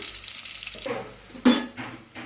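Oil frying in a pan while upma is being made, a soft steady sizzle broken by a few stirring scrapes and a sharp clatter of utensils near the middle.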